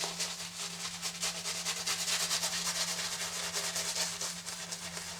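Merkur Futur safety razor shaving a lathered neck on a final pass, a quiet close-up rasping of short repeated strokes with no talking.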